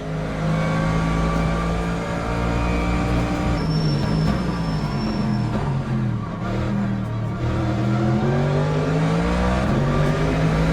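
A Mercedes-AMG LMGT3 race car roars around Spa in Le Mans Ultimate. Its engine note holds loud and steady, rising and falling through gear changes with a brief whine above it, and no one speaks.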